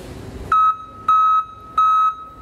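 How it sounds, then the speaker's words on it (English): A Custer surface mount back-up alarm on a trailer beeps loudly up close, three evenly spaced electronic tones following a short stretch of background noise. "We have a lot of different backup alarms here at E-Trailer besides the one we just showed you"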